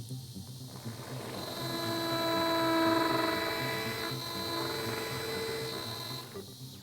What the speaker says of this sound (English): This is the 3 mm diameter drill, used for the median bone in this example case.